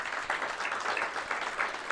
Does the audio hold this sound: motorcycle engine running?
no